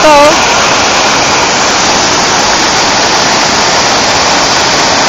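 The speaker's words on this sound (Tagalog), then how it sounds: "Ito po ang Minbalot Falls ng Barangay Buruan." Minbalot Falls in Barangay Buruan, Mindanao, roars as a loud, steady wash of broadband noise that continues without a break from start to finish.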